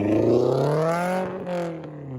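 A Subaru STi with an EJ boxer engine gives a deep, smooth exhaust rumble as the revs climb and then ease off, close and fairly loud, with no voices.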